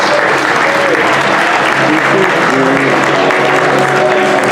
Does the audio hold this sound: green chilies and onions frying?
no